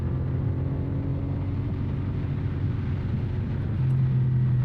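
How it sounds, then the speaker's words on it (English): A motorcycle overtakes a couple of cars, heard as a steady, loud low engine drone with road and wind rumble that rises slightly near the end, with no speech. "Excuse me a moment whilst I just concentrate on overtaking these couple of cars"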